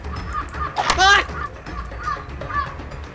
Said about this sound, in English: Why are the birds laughing?